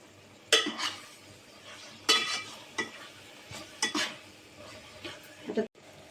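Spoon scraping and clinking in a pan while stirring a methi ladu mixture with finely ground cashews and almonds, a series of separate close strokes and knocks over a quiet background.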